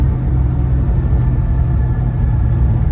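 Steady low engine rumble from inside a 1961 Corvette resto-mod driving in traffic, loud and continuous with a slight rise in revs and no talking.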